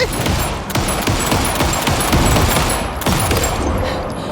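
Gunfire in the video game Alan Wake 2: a dense, loud burst of rapid shots runs the whole moment, with a few sharper cracks punching through the clatter.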